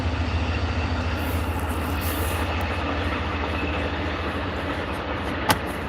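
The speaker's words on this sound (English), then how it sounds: "Trains are coming through." Amtrak trains passing through Washington D.C., a steady loud rumble of railcars rolling by nearby for the whole stretch, with a brief sharp clank near the end and no talking.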